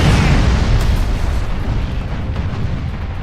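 Cannon fire from a ship in the video game Furious Seas: a loud, dense booming blast rolls out at the start and decays into a sustained low rumble, with no talk over it.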